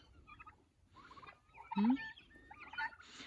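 Turkeys gobble in short bursts, fairly close, with soft clucking and rustling between calls.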